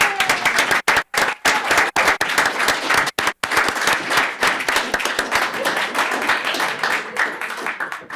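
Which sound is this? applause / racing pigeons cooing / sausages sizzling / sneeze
applause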